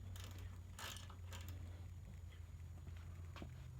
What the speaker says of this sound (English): take the ratchet and the socket